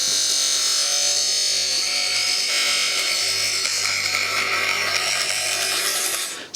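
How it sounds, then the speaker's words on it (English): A grinder cleans the edges of a metal piece for a seat frame, one continuous loud, harsh grinding whir held steadily for several seconds before cutting off, close by and with no voices. "I'm going to put it on the grinder to clean these edges"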